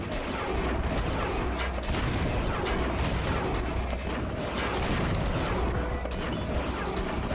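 A boss in the video game I-Ninja fires a dense barrage of rockets, producing continuous loud booms, bursts and explosions that pile up without a break.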